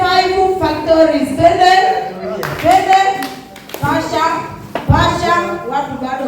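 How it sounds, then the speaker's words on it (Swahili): A crowd claps and ululates at a youth night of shared living and gift exchange held by a Catholic deanery youth group, with steady applause and high trilling cries running beneath loud voices talking throughout. "Vigelegele na makofi. Ongeza makofi."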